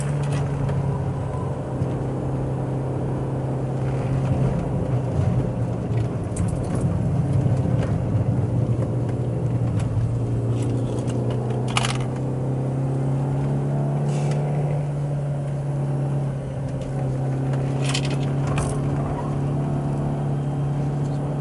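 Manual car engine under driving load with heel-and-toe shifting, a loud droning engine tone that rises, dips and rises again through gear changes and a downshift, heard from inside the cabin with no talk.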